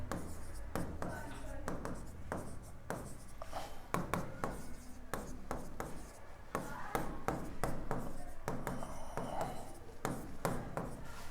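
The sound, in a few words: writing on paper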